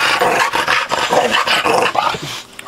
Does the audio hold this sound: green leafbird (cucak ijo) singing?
no